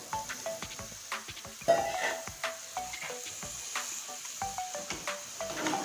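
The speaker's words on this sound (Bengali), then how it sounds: "আছে কসুরলতি, এটা দিয়ে দিচ্ছি এই তরকারিতে।" Kochu lati (taro stolons) is tossed into a curry with potatoes and spices that is sizzling in a pan. A steady frying hiss runs throughout, broken by repeated scraping and stirring strokes and a few clinks of the utensil.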